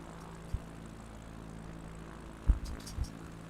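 Small propeller plane in flight on a trip from Bologna to Florence over the Apennines, a steady engine drone heard from inside with a few brief thumps.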